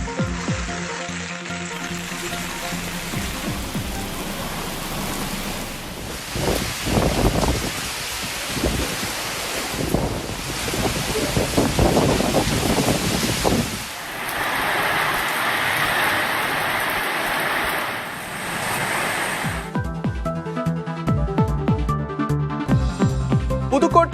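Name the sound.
heavy rain and strong wind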